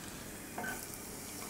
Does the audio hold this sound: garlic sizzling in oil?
yes